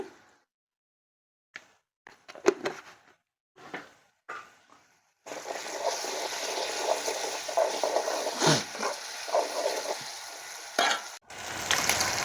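Onions frying in a pan with ginger garlic paste for an egg curry, starting with a few quiet scrapes and clinks before a loud, steady sizzle takes over, broken by stirring.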